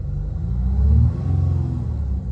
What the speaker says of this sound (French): Ok, donc là, il y a plusieurs choses qui ont changé, même la sonorité. Coup de gaz.